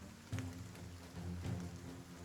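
Rain in the video game Battle Brothers, a steady hiss running throughout at moderate level, with low rumbling tones from the game's ambience swelling twice beneath it; no voices.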